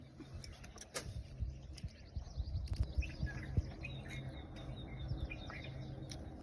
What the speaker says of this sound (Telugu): ఇట్లా పక్షుల కిలకిల రాగాలు, చల్లని గాలి